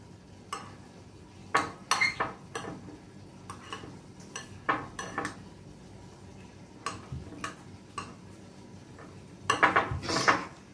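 A spoon mixes fruit salad in a bowl, making irregular clinks and taps that grow into a quick cluster of louder knocks near the end.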